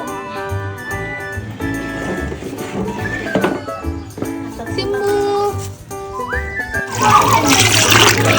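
Water gushes and splashes loudly near the end as it is poured over a dog being bathed, after a stretch of steady tonal background sound with faint voices.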